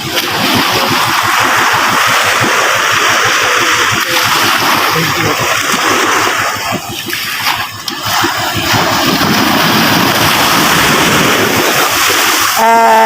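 Sea water splashing and sloshing onto a shore, a continuous loud wash with surges, with people talking over it.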